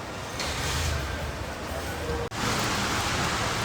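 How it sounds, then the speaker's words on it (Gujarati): Heavy rain pours down steadily in a village setting, a dense, loud wash of rushing noise with one very brief dropout partway through. "આ વરસાદ એટલો વધી ગયો છે"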